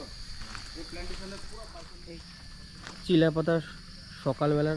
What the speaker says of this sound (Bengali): এই সকালবেলাও কিন্তু ঝিঝি পোকার ডাক শোনা আসবে